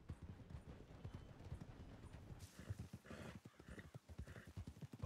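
Horse hooves clip-clopping in the video game Red Dead Redemption 2, rhythmic close hoofbeats from several horses at a walk, with a brief snort or whinny and faint talk mixed in.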